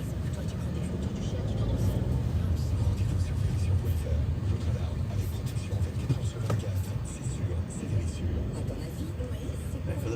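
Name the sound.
bus and car traffic at the Arc de Triomphe roundabout, Paris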